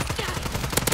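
Rapid video game gunfire from Call of Duty multiplayer, a dense run of close shots that grows sharper near the end, with no voices.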